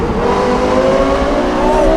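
A roaring 4.8-liter V10 sports car engine, co-developed with Yamaha, revs hard and steady, loud and close, with a rising mechanical howl throughout.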